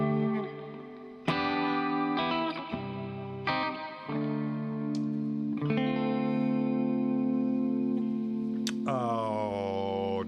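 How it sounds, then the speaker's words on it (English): A Gretsch 5410T electric guitar plays sustained chords and single notes through reverb, each strike ringing out with a smooth decaying tail, fairly quiet and alone. "We've still got a bit of reverb there."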